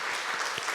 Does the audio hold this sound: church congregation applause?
yes